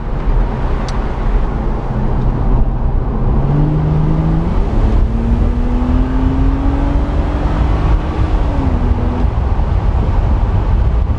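A BMW Z4 engine hums and climbs in pitch as it accelerates, with the tone dropping at manual gear changes, heard steadily from inside the car on an afternoon drive.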